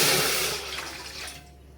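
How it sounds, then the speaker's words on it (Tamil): Water pouring into rice flour in a bowl for rice vadagam, a short splashing rush that starts loud and fades out within about two seconds, with no talk. "இப்போ இதில் 5 கிண்ணம் தண்ணி ஊற்றிக்கலாம்"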